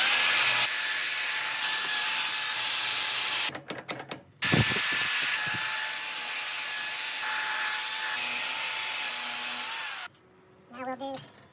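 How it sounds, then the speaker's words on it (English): Sanding an aluminum baseball bat with 400-grit abrasive, likely on a spinning bat, gives a loud steady broadband rasp that runs almost continuously, with a brief pause in the middle and a stop near the end followed by faint clicks. "we're going to switch over to a 400 now"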